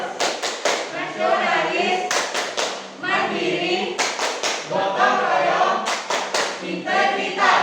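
Schoolchildren in a grade 5 class perform the PPK clapping routine, with rhythmic bursts of sharp group claps in quick sequences, separated by stretches of chanting voices, loud and close.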